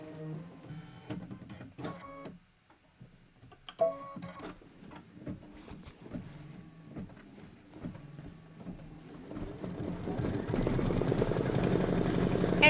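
A computerized embroidery machine stitches a quilting project on linen and cashmere, giving rapid mechanical ticking and whirring in bursts with brief pauses, then building into a steadier, louder hum of continuous stitching.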